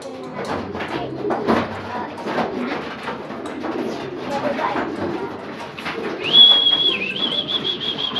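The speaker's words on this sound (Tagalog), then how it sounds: "Bumaba na kami para i-feed na ng aking daughter yung mga alaga namin sa lapati." Pet pigeons coo in a steady low, soft murmur close by at feeding time, while people talk over them and a brief whistle-like tone rises near the end.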